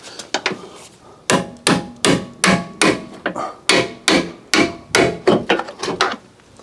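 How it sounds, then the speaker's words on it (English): A hammer drives a chisel on a lightly damaged Fiat 500, about a dozen sharp metallic strikes close by, a few quick taps and then a steady, evenly spaced series of blows, with no talking. "Let me just grab a hammer and chisel."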